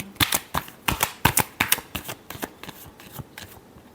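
Tarot cards are shuffled by hand in a quick series of crisp riffling snaps, loud and close, fading slightly toward the end with no talking.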